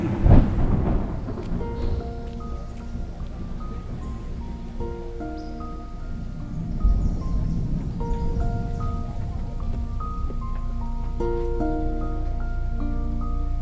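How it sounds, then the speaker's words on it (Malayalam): Heavy rain falls with thunder in a Malayalam film scene. A deep rumble comes near the start over the constant wash of rain, while sustained musical tones play throughout. "നാട്ടിൽ മൊത്തം മഴ പെയ്യാണ്"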